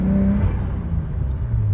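Turbocharged car running a stock tune with boost turned up on a manual boost controller, engine revving with a rising tone that drops into a low rumbling idle, close and loud.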